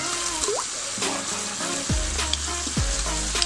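Mushrooms fry in a pan for creamy chicken pasta, a steady close sizzle with occasional utensil scrapes and clinks as they are stirred, no voices.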